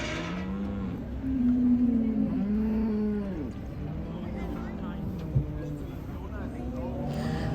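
Dairy cattle moo from inside an animal transport trailer, several long, drawn-out calls one after another over a steady background rumble.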